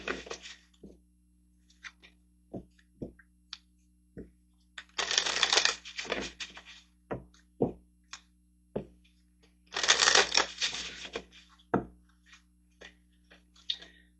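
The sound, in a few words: tarot cards being shuffled and drawn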